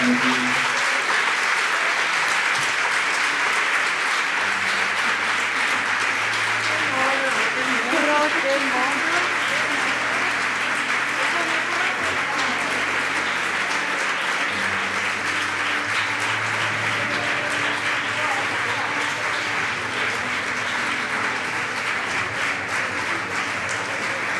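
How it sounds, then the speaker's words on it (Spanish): A large crowd applauds loudly and continuously, with a dense wash of clapping and some voices mixed in throughout. "Vamos a dar un fuerte aplauso a Marta Martínez, a Teresa Mercado y a Migue"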